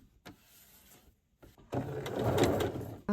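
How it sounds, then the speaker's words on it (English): A sewing machine starts up, sewing an upper collar to an under collar on a tinsel dress with rickrack as a stitch guide: short taps and handling first, then a steady close motor whir. "I'm just going to sew the upper collar to the under collar now."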